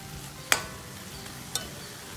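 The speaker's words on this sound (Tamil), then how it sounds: "நம்ம துருவின அந்த பீட்ரூட்டு ஷேப்பும் மாறாமல் உடையாமல் லைட்டாக கிண்டுங்க" A spoon stirs grated beetroot halwa in a pan over a soft, quiet cooking hiss, with two distinct scraping clicks about a second apart.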